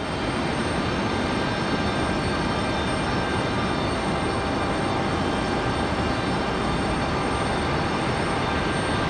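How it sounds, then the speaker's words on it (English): An Airbus A321 airliner departing Raleigh-Durham for Dallas Fort Worth makes a loud, steady, broadband roar that holds without a break. "Here goes our A321 back to Dallas Fort Worth, back to DFW."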